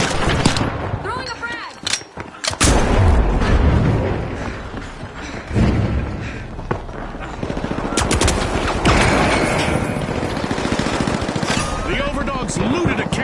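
Gunfire and explosive blasts from a frag grenade thrown in the game The Finals, loud and dense throughout with repeated bursts and thumps, a sharp blast near the start and another surge midway, with a voice talking over the action.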